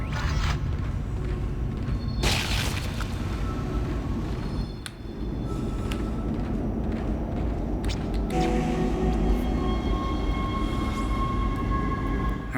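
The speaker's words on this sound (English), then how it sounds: "here we are back at the tram station" Tram pulling into a station in the sci-fi horror game Dead Space, a steady low mechanical rumble throughout with brief higher screeches and clanks, heard alone without talk.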